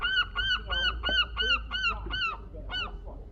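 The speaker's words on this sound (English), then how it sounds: "listening to the birds" A run of about eight loud honking goose calls in quick, regular succession close by, over a low background rumble, by the sea near a lighthouse.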